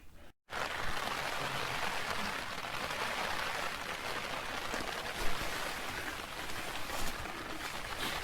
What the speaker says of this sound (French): C'est la pluie qui tombe.